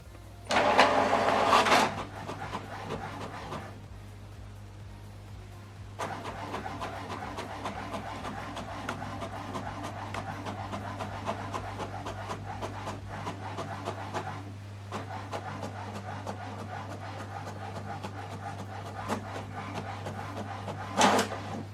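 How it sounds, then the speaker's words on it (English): A home printer prints a document at 600 dpi, double-sided, with a steady low mechanical hum, rhythmic clicking and paper-feed whirring, plus a louder whir near the start and a brief burst at the end, close and without speech. "Now this document is printing."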